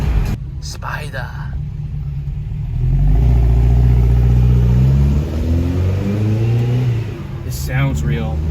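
A Porsche Spider convertible, top down, accelerates hard on Sunset Boulevard, its engine note rising into a loud swelling roar that peaks and fades as it passes, with people talking excitedly over it.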